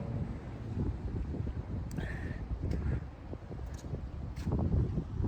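Steady cold wind buffets the microphone outside a Sam's Club in the United States, a low rushing roar with a few faint higher sounds in the background.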